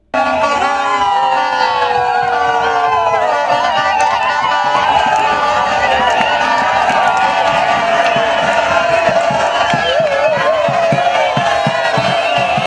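A dense, loud crowd in Uvira, Democratic Republic of Congo, gives a rousing welcome to a Front commun pour le Congo delegation, with continuous cheering, singing, whistles and horn blasts, constant and close throughout.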